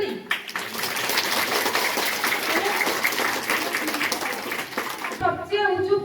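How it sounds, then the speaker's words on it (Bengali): A crowd of schoolchildren and audience gives sustained applause after a correct answer in a quiz competition at a school's West Bengal Day celebration, with loud dense clapping for about five seconds before a voice speaks. "হাততালি"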